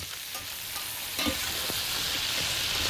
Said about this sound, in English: Stir that all together.